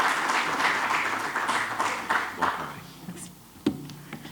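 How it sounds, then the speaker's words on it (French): Audience at an evaluation conference breaks into applause, a dense wash of clapping hands that gradually thins and fades, leaving a few scattered late claps near the end. "On peut acclamer merci."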